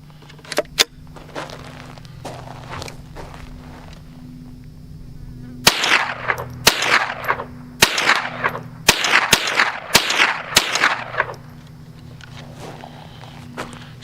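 A brand-new Henry AR-7 .22 survival rifle fires a run of sharp, loud shots at irregular intervals, with a couple of early cracks and then a quicker cluster, over a steady background hum.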